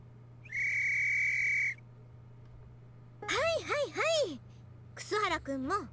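A sharp, steady whistle blast from the visual novel Memory's Dogma rings out alone, followed after a pause by a voice speaking in lively, sing-song bursts.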